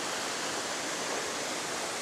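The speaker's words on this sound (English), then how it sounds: "It's a cool little waterfall that" Small waterfall running right beside a hiking trail in the Dolly Sods Wilderness, West Virginia, a steady broadband rush of falling water, close and constant, with no voices.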